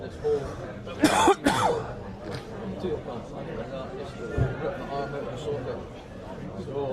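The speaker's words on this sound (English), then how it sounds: "Apologies for all the coughing here on commentary." A football commentator at a cup final coughs sharply a couple of times close to the microphone, followed by throat clearing, with crowd chatter and talk in the background.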